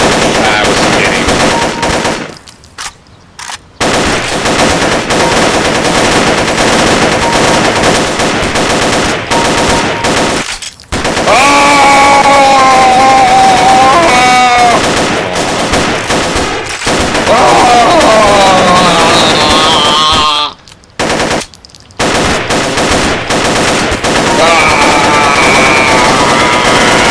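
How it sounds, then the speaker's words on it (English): Rapid automatic gunfire and overlapping shots from the video game Paranoia, loud and sustained bursts with brief pauses, with a voice talking faintly underneath. "everyone should stop shooting"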